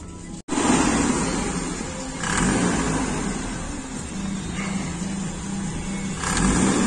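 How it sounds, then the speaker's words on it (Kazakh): A Mercedes W124 engine idles steadily at a Bishkek car market, a continuous mid-pitched rumble close by that swells slightly a couple of times. "Мотор үнүн каралачы, үнүн."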